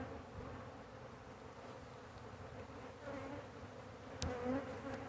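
A honey bee swarm buzzes as a faint, continuous drone that fills the air, with a few louder passes of individual bees close by and no talking.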